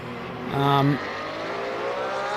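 Race car engines accelerating out of a corner in Assetto Corsa Competizione, including a Porsche, with one short loud revving rise followed by steady engine drone.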